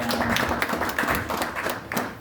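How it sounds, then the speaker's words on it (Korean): A church youth congregation claps together to close a Sunday worship service, continuous moderately loud clapping that fills the short span. "우리 박수로 오늘 예배 마무리하도록 하겠습니다"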